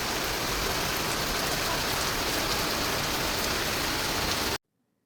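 Steady, loud rain pours down without a break, a dense wash of drops hammering surfaces up close, then cuts off abruptly near the end into silence.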